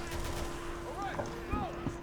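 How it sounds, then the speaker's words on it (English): Gunfire from Resident Evil 6 as zombies are shot, a few sharp reports spaced across the moment over a steady game hum, with a steady tone running underneath. "Take a gun, shoot at zombies."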